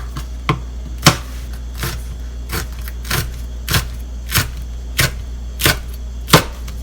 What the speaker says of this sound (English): Next, I will begin slicing the peppers into rings.